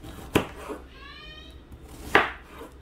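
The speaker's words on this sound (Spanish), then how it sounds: "vamos a sacarle las puntitas aquí del pepino. Esto, y vamos a sacarlo en pedazos" A knife chops a cucumber into pieces on a board, two sharp, distinct strikes about two seconds apart, close and clear against quiet background.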